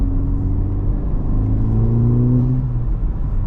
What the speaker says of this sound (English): If anybody is interested in the exhaust, this is just a front resonator delete with the valve open